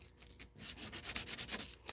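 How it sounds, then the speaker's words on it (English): Sanding a resin body kit part for a 1970 Chevelle restomod scale model, rapid rhythmic rasping strokes, close and fairly loud, about a dozen quick passes. "So we need to sand that down a little bit."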